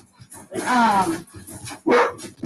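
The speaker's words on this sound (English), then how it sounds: "there's your puppies" Puppies bark and yip in two short bursts at close range, loud and bright, with a person speaking around them in a home setting.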